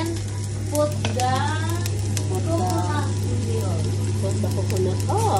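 Garlic and onion sizzle in a pan for an Ilocano-style crab dish, a steady frying hiss running under constant conversation with a low hum throughout.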